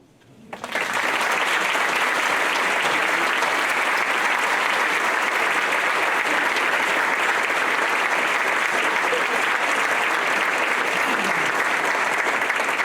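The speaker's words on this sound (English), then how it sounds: "Let's give them all another round of applause" Sustained audience applause for alumni award recipients at an alumni weekend awards ceremony, loud and even throughout after a sudden start.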